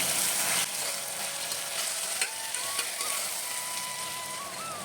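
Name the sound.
tomatoes sautéing in a pan with salt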